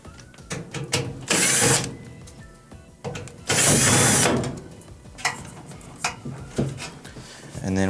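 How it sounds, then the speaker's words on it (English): Screws come out of the control board bracket on a Frigidaire dryer, heard as short ratcheting driver bursts and metallic clicks, two louder whirring runs in the first half, with scattered taps and handling noise close by. "we're going to take these 2 screws out that hold this bracket that the control board sits on"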